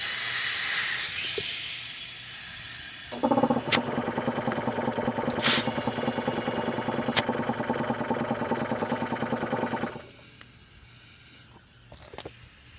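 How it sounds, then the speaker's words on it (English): Steady buzzing hiss of an air compressor nozzle filling a lawn tractor tire for several seconds, then cutting off, with a couple of brief clicks nearby. "Now let's see if I can switch back to the inflating nozzle and keep it going."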